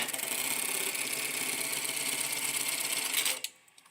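A THOR GT-1900B-IP electronic tacker stitches a one-inch vertical tack on a dog collar, a loud, steady, rapid mechanical chatter running close up for over three seconds before stopping abruptly.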